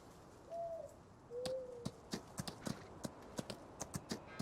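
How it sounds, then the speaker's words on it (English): Horse hooves clip-clop in a steady, evenly spaced rhythm in Farming Simulator 19, loud and close, preceded by a couple of short cooing bird calls. "We've got horses up here."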